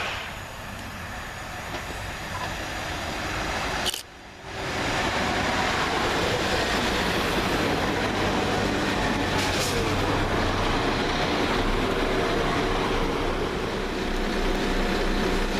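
A Class 172 diesel train rumbles steadily close by as it arrives at a station, with a continuous engine drone, briefly dipping once before the heavy running noise resumes and carries on.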